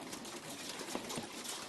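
Pigeons belonging to a Beijing keeper of old Beijing pigeon traditions, with soft low cooing calls rising a few times over a steady noisy background, fairly faint and without speech.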